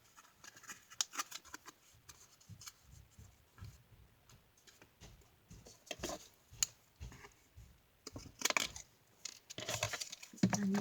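Small scissors snipping scraps of paper into thin tags, a series of quiet crisp cuts and light rustles at close range with brief pauses between snips.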